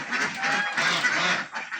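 Ducks on a mixed farm at Chiramangalam, Parappanangadi, quacking and honking in a dense, continuous flock chorus, close and fairly loud.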